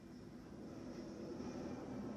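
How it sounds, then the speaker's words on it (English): Steady low roar of airplanes passing overhead in New York City, a continuous distant engine rumble with no voices. "listen to the planes fly by"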